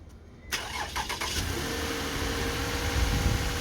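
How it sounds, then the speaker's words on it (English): A Toyota engine with a booster connected cranks briefly, catches and starts, then settles into a steady, fairly loud idle. "Now crank and start."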